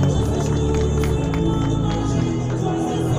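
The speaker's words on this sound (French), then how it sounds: "Applaudissements, s'il vous plaît, messieurs, dames." A crowd applauds the women's podium at the Montpellier urban trail race, claps and cheers mixing with loud music playing over a sound system.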